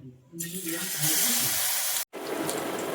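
Batter-dipped eggplant slices (baigani) dropped into hot refined oil in a kadai, a loud steady sizzle and crackle that jumps up at once, breaks off briefly, then carries on; no talking.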